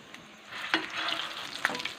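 Chicken shami kababs frying in oil as they are turned over, a soft close sizzle with a couple of sharp scraping clicks from the flip, quiet and without talk.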